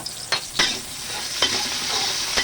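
Onions fry in oil in a pan for pork kare-kare, a steady close sizzle with a few sharp scrapes from a heavy ladle stirring them.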